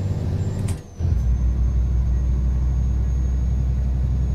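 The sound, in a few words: truck engine revving as gas is floored, Euro Truck Simulator 2 video game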